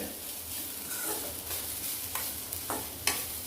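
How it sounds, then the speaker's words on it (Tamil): Grated coconut dry-roasting in a pan without ghee, a soft, steady sizzle and hiss close by, broken by several brief scraping stirs, with no talking. "இந்த தேங்காயை நல்லா வறுத்துக்கிடணும்"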